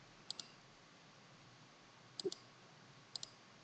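Computer mouse clicks during image editing in Photoshop, three quick double clicks spaced apart, sharp and close over faint room hiss.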